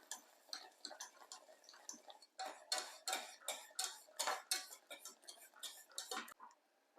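A spoon stirs homemade kiwi jam in a pot, ticking and scraping against the sides in a quick steady rhythm, close and clear with no voices.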